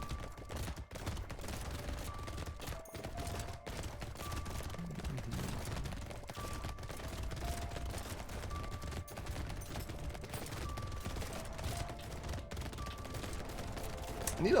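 Minigun and SMG fire in Brotato, a dense, constant rattle of rapid small shots running steadily the whole time at moderate level, with brief tonal game blips over it.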